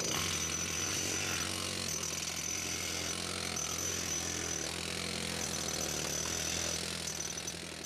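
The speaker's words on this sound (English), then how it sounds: "With the air hammers, they could break out big pieces of ice." Air hammers breaking out big pieces of glacier ice during a mountain rescue, a loud continuous rattling pound with brief dips in intensity, close by, with no voices.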